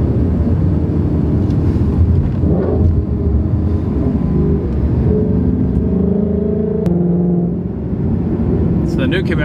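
A Ford Mustang GT engine rumbles deep and loud on a road while accelerating, with a rising engine note partway through and someone speaking over the steady roar.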